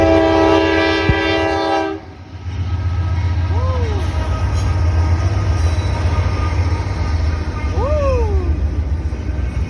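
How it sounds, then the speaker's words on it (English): A passing train sounds a loud, sustained horn blast, then its heavy rumble rolls on steadily. People talk briefly over the rumble. "Train coming over."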